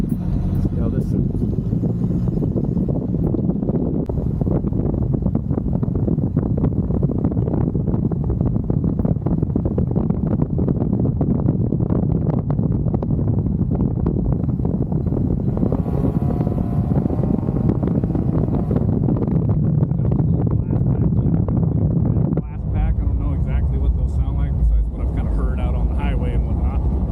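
Toyota 22RE four-cylinder with a replacement 2.25-inch exhaust, header and catalytic converter, droning steadily from inside the truck cab with wind roar, then dropping off near the end as the engine eases.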